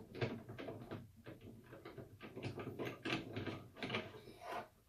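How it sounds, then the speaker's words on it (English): The winding crank of a WW2 gramophone is unthreaded, giving a string of quiet, close mechanical clicks and ratcheting scrapes in irregular bursts, with no talk. "I'm going to unthread the crank"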